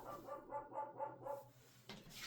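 A dog barks several times in a quick rhythmic burst at someone walking down the road, the barks fairly close and clear with no talking over them.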